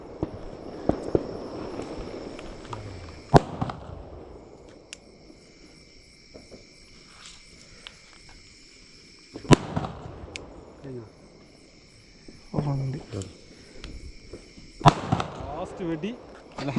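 Deepavali firecrackers and fireworks bursting outdoors at night, several sharp loud bangs spaced seconds apart with crackling tails, over a steady background of chirping crickets, with people talking between the blasts.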